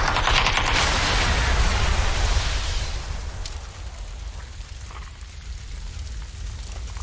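A loud, broadband car explosion in PlayerUnknown's Battlegrounds rumbles at the start and slowly decays into a lingering crackling roar, with debris settling.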